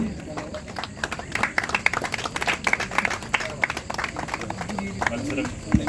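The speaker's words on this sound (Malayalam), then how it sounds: "നമുക്ക് കൈയടിച്ചുകൊണ്ട് അത് ഈ വെറ്ററൻ ഫുട്ബോളറും സ്പോർട്സ്മാനും കൂടിയായിട്ടുള്ള വർഗീസ് സാറിനെ നമുക്ക് അഭിനന്ദിക്കാം" An audience at a football tournament claps steadily to honour a veteran footballer, a dense, sustained round of applause from a crowd that carries on throughout with voices mixed in.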